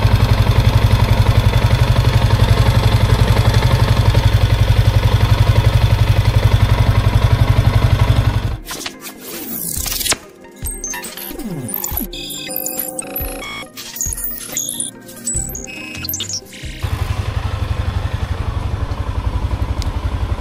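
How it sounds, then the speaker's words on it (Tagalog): A Yamaha Sniper 150 motorcycle engine idles loudly up close with a rattling, clattering tone. Midway it cuts out for several seconds, leaving scattered clicks and handling noises, then the steady idle returns. "Kapadinig ko sa inyo yung makina."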